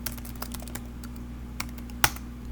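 Keys tapped on a computer keyboard in a quiet room, a short irregular run of light clicks ending in one sharper keystroke.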